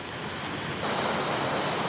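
Sea waves rushing ashore, a constant broadband roar that swells louder partway through, with a breezy hiss beneath.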